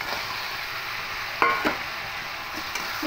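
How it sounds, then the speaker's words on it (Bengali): Fried catla fish heads being stirred with spices in a hot pan, a steady low sizzle with a few sharp scraping clinks of the spoon against the pan, close and alone with no voices. "খুব ভালো করে মশলার সঙ্গে মিশিয়ে নেব।"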